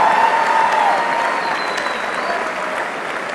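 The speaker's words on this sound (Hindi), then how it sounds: "चाहूंगा कि प्लीज एक भरपूर तालियों के साथ" Audience applause at a concert in Washington DC, a dense, steady wash of clapping from a large crowd throughout, loud and continuous with no talk over it.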